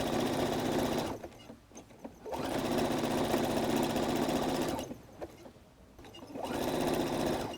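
A sewing machine stitches fabric-covered clothesline rope into an oval basket, running in fast steady bursts of rapid needle chatter separated by two short pauses.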